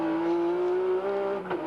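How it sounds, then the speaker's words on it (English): A race car's steady engine drone at the 1990 Bathurst 1000 with a high straight-cut gearbox whine running through it, loud and close, shifting pitch slightly near the end. "You notice the gearbox straight cut gears in that car, and they make a lot of noise and crash and bang"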